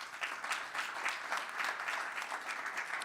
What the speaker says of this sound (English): please applaud these two ladies